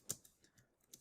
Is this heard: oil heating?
no